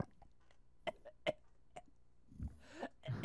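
A string of short, sharp coughs, several in quick irregular bursts, fairly faint and clipped, followed by muffled rustling and low voices near the end, as heard among players of Men of War: Assault Squad 2.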